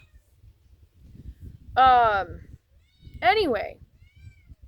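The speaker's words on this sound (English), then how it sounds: "she likes to hear herself meow." A cat meows twice, loud and close, with two drawn-out calls about a second apart, while a person talks quietly nearby in a garden setting.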